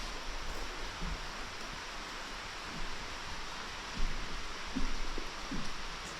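Rain falls steadily outside an Appalachian Trail shelter during a thunderstorm day, making a dense, even hiss with a few slightly louder surges and no voices.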